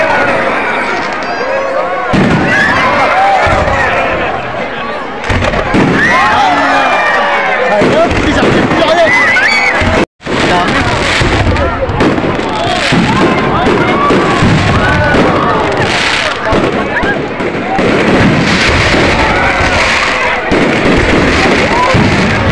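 Rapid crackling bursts and pops of a Kuwait National and Liberation Day fireworks display fill the air continuously, with crowd noise and voices mixed underneath, loud and dense throughout.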